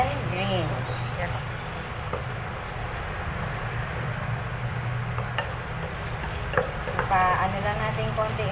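Chicken fillet with red and green bell peppers stir-frying in an uncovered pan, a steady broadband sizzle and stirring running throughout with a few brief scrapes, while a person talks over it.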